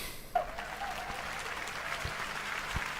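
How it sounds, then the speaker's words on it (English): Audience applause at the Google I/O 2024 keynote, a steady wash of clapping from a large hall that holds at an even level throughout, with a few sharper thumps and knocks rising briefly above it. "And you see, even the applause is genuinely louder than before."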